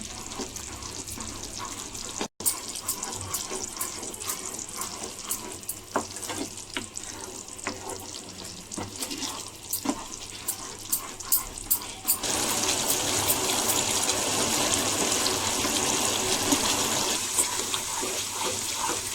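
Banana halwa with melted jaggery being stirred in a pan, a steady bubbling sizzle with repeated scraping strokes that turns louder and denser in the second half, with no talk.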